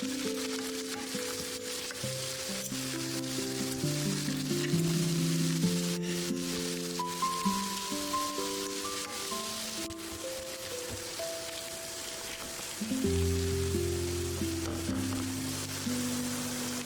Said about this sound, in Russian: На разогретую сковороду вливаем немного растительного масла и выкладываем всю овощную массу